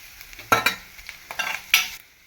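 Ingredients being sautéed and stirred in a pan for kuzhi paniyaram, a few distinct scraping stirs with soft sizzling between them, fairly close and moderately loud.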